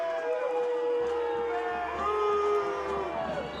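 A home high school football crowd at Lakewood Ranch roars and jeers at the referees, a broad swell of voices with whistling tones rising over it, while a commentator talks on top.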